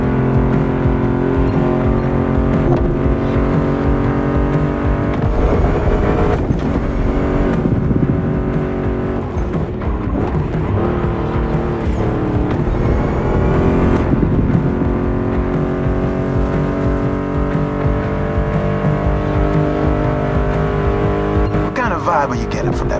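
A Ford Mustang GT muscle car engine roars steadily in the racing video game The Crew Motorfest, its throaty drone sustained under loud rock music, with occasional tire noise and a voice talking.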